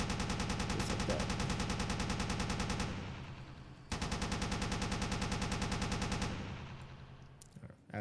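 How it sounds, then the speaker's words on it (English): A .50 cal coaxial machine gun on a Panther 2A5 tank in Space Engineers fires loud, rapid sustained bursts, stopping briefly, then resuming in a second long burst before trailing off. "hit number 3 to turn on the machine gun. I got a 50 cal, coaxial mountain"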